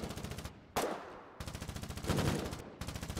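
Rapid automatic gunfire from a weapon in the video game Foxhole comes in several fast bursts separated by brief pauses, loud and close, with no talking.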